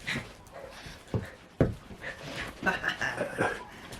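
A small dog pants rapidly and lets out soft whimpers close by, with a few thumps and shuffling mixed in.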